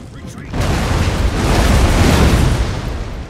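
A rocket barrage bursting across the battlefield in Empire Total War, heard as a loud, sustained roaring rumble of overlapping explosions that swells after a brief quieter lead-in and holds steady.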